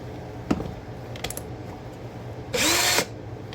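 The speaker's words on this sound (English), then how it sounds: "screwdriver, electric screwdriver, drill machine." A few clicks and taps, then a short half-second whir of an electric drill spinning up close by, over a low steady hum.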